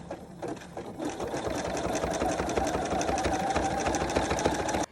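A sewing machine zigzag stitches a jelly roll rug, a close, continuous rapid whirring and needle clatter that runs steadily for several seconds before stopping abruptly.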